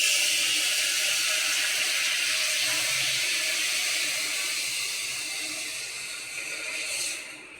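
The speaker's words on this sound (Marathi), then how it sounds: "आता आपण दूध हळूहळू घालूया." Milk mixed with water is poured slowly into hot caramel in a pan, giving a steady sizzling, hissing pour that gradually fades toward the end, with no talk.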